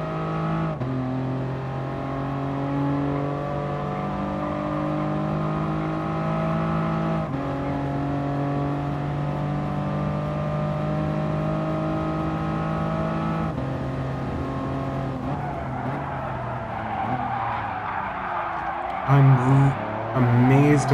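A Toyota Crown race car in Gran Turismo Sport drives with a steady, droning engine note that climbs through the gears in long rising sweeps. Each sweep is cut by a brief shift, and a voice talks over the engine for much of the run.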